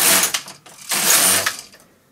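A knitting machine carriage runs across the needle bed knitting two rows of a double-layer slipper, giving two close, sweeping mechanical whirring passes with a brief pause between them.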